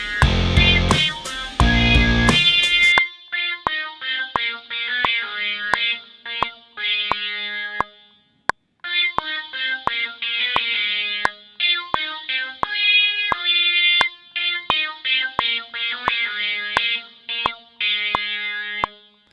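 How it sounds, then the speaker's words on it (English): British combo synth lead in Logic Pro playing a melody of distorted, effect-laden notes after a short loud burst, phrases separated by brief silences and sharp clicks, bright and close. "First off, I made a British combo synth lead."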